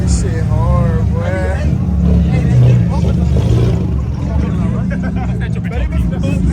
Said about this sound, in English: All you hear is roaring